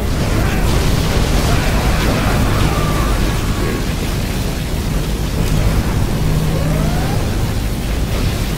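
A particle cannon fires in the Command & Conquer video game, a dense, continuous rumbling blast that holds steady for several seconds at high volume, with faint synthetic whines drifting over it.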